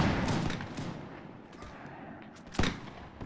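Scattered musket volleys in Mount&Blade: a ragged series of sharp cracks and booms of middling loudness, with one louder shot near the end.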